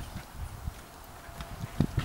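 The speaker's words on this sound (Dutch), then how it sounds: "Die paarden die lopen hier allemaal." Horses walk along a campsite path in France, their hooves clip-clopping in an irregular series of soft thuds at a moderate distance, with faint background murmur.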